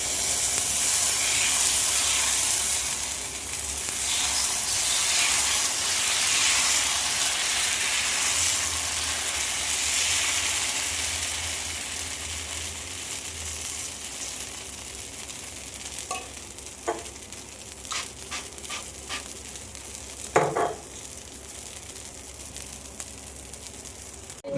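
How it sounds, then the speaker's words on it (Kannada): Dosa batter sizzles and steams on a well-heated griddle, a steady broad hiss filling the scene with a few small crackles and pops near the end, no talking. "ದೋಸೆ ಬಿಡ್ತಾ ಇದ್ದೀನಿ ಗೈಸ್"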